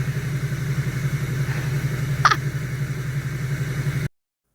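A truck engine idles steadily and loudly nearby, a constant low rumble throughout with one brief higher-pitched squeak midway, then it cuts off abruptly.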